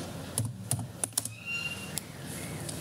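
Computer keyboard typing during a coding lesson: a handful of separate, fairly crisp keystrokes, spaced out irregularly over a quiet room background, with no talking.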